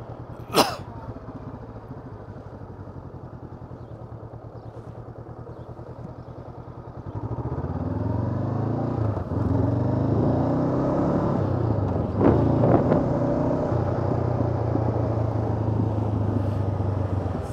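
A motorcycle rides a slalom on a training course, its engine idling low before rising into a louder revving drone with shifting pitch as it weaves, plus a sharp click near the start.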